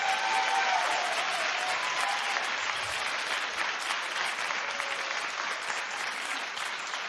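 Sustained studio audience applause on a daytime talk show, a dense wash of clapping from a crowd that holds steady and eases slightly toward the end.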